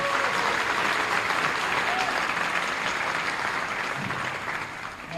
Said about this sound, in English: another big round of applause for our all league honorees